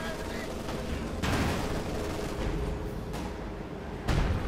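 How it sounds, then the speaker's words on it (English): Explosions and gunfire from the Company of Heroes 2 World War II strategy game during a 1v1 match, a dense crackle of shots with sharp booming blasts near the start and end, heavy and close throughout. "Another devastating explosion."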